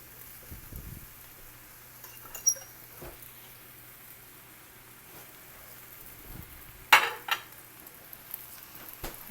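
Chicken noodles being mixed with vegetables in a pan over low heat: quiet scraping and stirring with a few sharp utensil clinks against the pan, one clearer clatter near the end, no talking.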